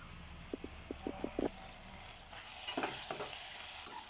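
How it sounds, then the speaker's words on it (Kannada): Onion, tomato and green chilli fry in a pan with a soft steady sizzle. A few light taps come first, then the hiss swells and holds, fairly quiet and close. "ಇದು ಈರುಳ್ಳಿ, ಟೊಮೆಟೊ ಮತ್ತು ಹಸಿರು ಮೆಣಸು ಎಲ್ಲ ಫ್ರೈ ಆಗ್ತಾಯಿದೆ"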